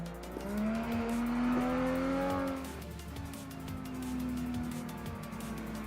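BMW drift car in a racing video game, its engine holding a steady high rev while the tires squeal continuously through a long slide, loud and close, easing slightly midway before building again.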